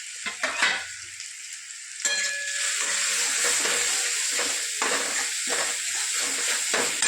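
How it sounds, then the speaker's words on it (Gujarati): Spices are sautéed in a pan, producing a continuous sizzle with a few clinks and scrapes of utensils against metal. It is fairly close and heard without any talk. "જરાક મસાલો સોતે કરવાનો"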